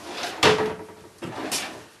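A kitchen cabinet drawer in a shop kitchen, fitted with new hardware, slides open or shut twice in quick succession. Each movement ends in a close, brief wooden thump, with a short quiet gap between them.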